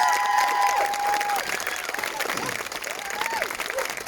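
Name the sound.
round of applause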